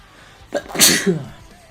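A single sharp sneeze bursts out close to the microphone, a short intake followed by a loud hissing explosion that fades quickly, with no talk around it.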